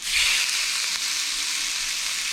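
Fish seared meat side down in a hot pan gives a steady, loud sizzle that holds even and unbroken throughout, with no voices over it.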